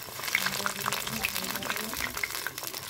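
Vegetable pakoras sizzle in hot oil as they are turned, a steady bubbling crackle broken by small pops, fairly soft and close, with faint talk in the background.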